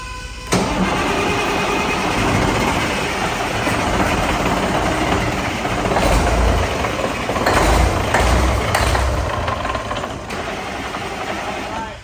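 A Cat C15 diesel swapped into a 1988 Peterbilt 379 cranks over on its first start attempt, a loud, sustained, rough churning of the starter and engine that continues for several seconds.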